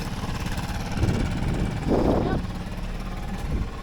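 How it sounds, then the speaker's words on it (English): A small kicker outboard motor pushes a fishing boat out while it trolls with downriggers, giving a steady low engine rumble with slight swells. Wind noise and soft voices sit faintly underneath. "The kicker motor is running us out there"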